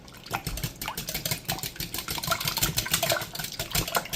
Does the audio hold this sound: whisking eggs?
yes